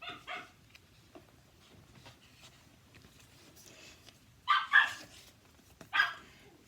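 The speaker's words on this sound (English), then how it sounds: "If Mabel keeps barking, I'll stop" A dog named Mabel lets out a few faint barks early on, then louder, sharper bursts of barking later, heard indoors at a modest distance over quiet background.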